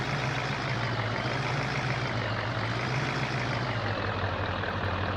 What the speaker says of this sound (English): Let's see if I can get the truck in here in a way that I can unload them